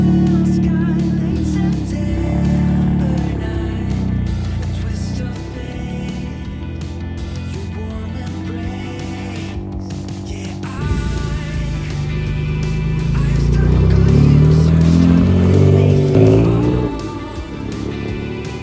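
A rebuilt Mitsubishi GTO twin turbo on the road heading to a Japfest car show, its engine droning steadily from inside the cabin, dipping around the middle and then swelling louder as it accelerates before easing off.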